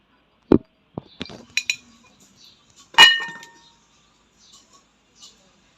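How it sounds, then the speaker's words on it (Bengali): Raw mango, roasted and mashed, is strained with metal utensils: a few sharp clinks and scrapes of spoon against a strainer and bowl, spaced irregularly and close up, with short quiet gaps between them. "এবার আমি আমটা ছেঁকে নেব।"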